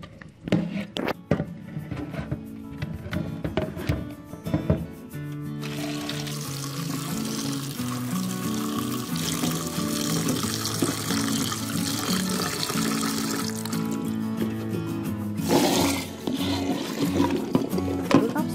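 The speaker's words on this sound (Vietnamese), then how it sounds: "mình sẽ đổ bỏ cái nước muối ra ngoài và mình cho nước vô mình mình rửa lại" Running tap water rinses a bowl after brine is poured off, while preparing young pickled toad-apples in sweet fish sauce; a steady, fairly loud stream of water with clattering at the start.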